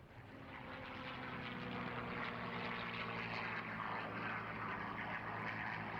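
A Curtiss P-40 Kittyhawk propeller fighter with a V12 engine drones steadily overhead, its engine noise swelling in over the first second and then holding at a moderate distance.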